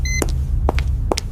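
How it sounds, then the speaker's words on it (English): An alarm goes off at the Louvre in a 3D simulation of a jewel heist: three short electronic beeps sound at a steady pace over a low, constant rumble. "The alarm goes off and time starts"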